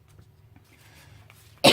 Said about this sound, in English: I always start coughing when I'm doing videos